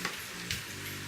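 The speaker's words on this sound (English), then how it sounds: "A good way to check to see if your oil is ready to deep fry is you just want to drop a little piece of bread in here." Hot oil deep frying a small piece of bread, a constant bright hissing sizzle with a couple of faint crackling pops, close and steady.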